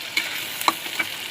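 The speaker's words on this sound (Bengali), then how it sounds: "মশলাটা ভালো করে কষিয়ে নিচ্ছি" Spice paste with mustard frying in a pan for fish curry, a soft steady sizzle broken by a few brief stirring clinks over just over a second.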